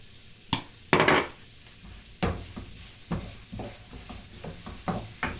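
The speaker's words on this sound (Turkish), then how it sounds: "şöyle soğan kavuruyorum." Onions with chili flakes sauté in a pan, a close sizzle punctuated by sharp utensil knocks and repeated stirring scrapes at an uneven rhythm, with no voices.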